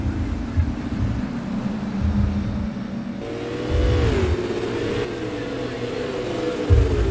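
Supermodified race cars exit turn 4 at Mosport Speedway during the 2019 Crazy Canuck Snowball Derby feature. Several engines drone together, then one note climbs sharply as the cars accelerate past, and a steady roar carries on afterward.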